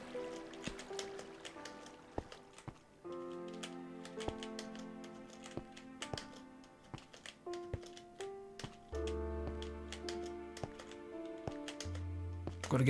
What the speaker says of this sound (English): This keyboard's far too noisy.